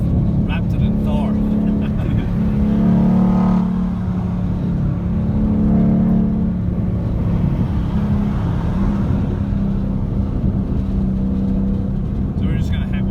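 A Ford Mustang GT's engine grumbles steadily and low throughout while driving, a continuous rumbling drone with mild surges, with people talking over it inside the car.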